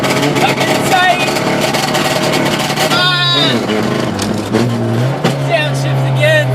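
A Honda CRX race car engine roars close and loud on a test lap, revving high before dropping sharply as it downshifts, then its pitch climbing again; a voice talks over the engine.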